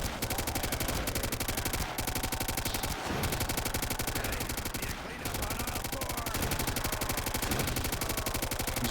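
Nonstop automatic gunfire from Call of Duty: World at War zombies mode with infinite ammo, a rapid, even rattle of shots that runs almost unbroken. It drops out only briefly a couple of times.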